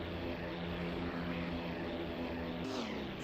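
Propeller aircraft engines drone steadily in the WWII flight game IL-2 Sturmovik 1946, a continuous dense roar of many planes in the air, with a brief shift in pitch near the end.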